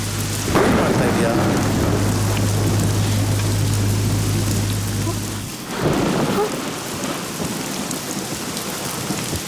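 Heavy rain pours down steadily with thunder rumbling through it during a stormy night when the power has gone out. The downpour is loud and constant, dipping briefly before a fresh surge of thunder near the end.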